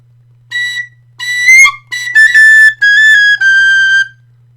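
A tin whistle plays a slow series of clear, bright sustained notes with short gaps between phrases, close and loud, with no talking.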